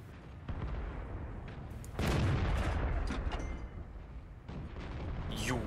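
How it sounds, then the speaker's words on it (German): Artillery shells strike a tank during a World of Tanks battle, with a heavy blast arriving around the midpoint and rumbling, crackling impact noise continuing across the clip. "Die Artillerie hat's auf mich abgesehen."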